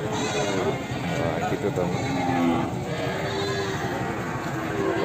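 Etawa goat kids bleating at a farm pen, soft repeated cries scattered under ongoing close conversation between people.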